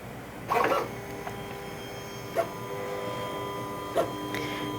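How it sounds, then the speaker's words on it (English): A vinyl cutting machine scans the registration marks on a loaded sheet, giving a faint steady electric hum with a few short clicking and whirring movements spaced across the quiet room. "So now the machine is just reading the registration marks"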